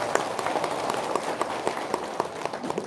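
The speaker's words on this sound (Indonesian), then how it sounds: "Tepuk tangan dong" A crowd clapping steadily and fairly loud, a dense patter of hand claps continuing throughout without talk.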